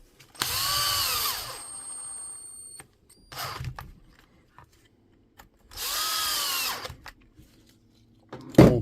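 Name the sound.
power driver putting screws into DCH273 unit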